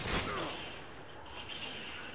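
A distant sniper rifle shot in Modern Warfare 2, one sharp crack at the start trailing off into a faint rumbling echo and low background noise.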